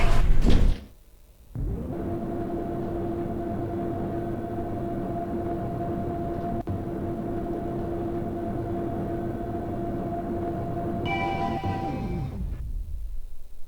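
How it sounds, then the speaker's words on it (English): An elevator door in a shopping centre slides shut after a short clunk, then a long steady mechanical hum runs for about ten seconds, with a brief chime-like tone near the end. "Door closing."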